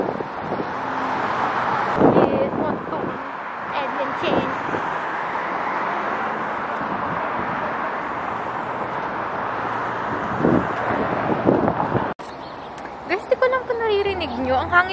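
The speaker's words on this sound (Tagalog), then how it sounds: "Ang hangin kasi actually sa labas eh. Kanina mahangin." Gusty wind outdoors in a downtown area buffets the microphone in a steady roar, with occasional louder bursts and faint traffic rumble in the background.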